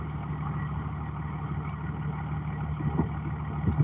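A truck engine runs at a steady low idle, a constant close rumble with a hum that builds slightly louder toward the end.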